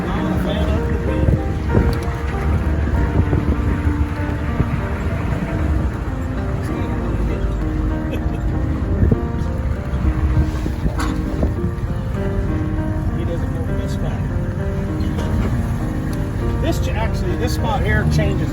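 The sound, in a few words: strong wind blowing on a mountain walk in Utah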